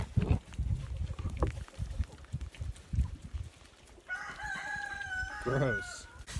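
Chickens cluck softly throughout, and near the end a rooster crows once, loud and close, over scattered farmyard noise.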